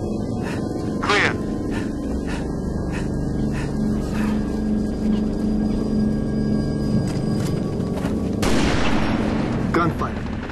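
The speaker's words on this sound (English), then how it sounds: "Gunfire. Magnums." Gunfire from magnum pistols in the video game Halo: Reach, a series of sharp shots spread across the clip over a constant electronic hum and game soundscape.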